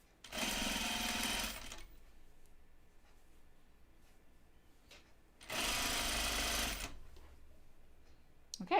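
A sewing machine stitching denim jeans runs in two short, steady bursts of rapid whirring, close and clear, separated by a few seconds of near silence.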